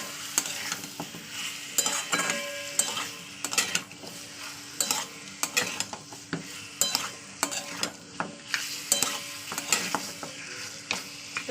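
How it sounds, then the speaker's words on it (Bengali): Meat sizzles in a pan with spices while being stirred, a close, steady rhythm of scraping strokes over a constant frying hiss, with no voices. "মশলার সঙ্গে মাংসটাকে ভালো কষিয়ে নেবো।"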